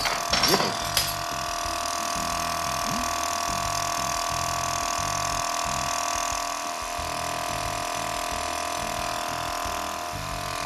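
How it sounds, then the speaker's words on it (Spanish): A vacuum sealer evacuating a sous vide bag, a steady loud motor hum with rhythmic pulsing, preceded by a couple of sharp clicks at the start as the lid latches. "Doble clac y le damos vacío y sellado."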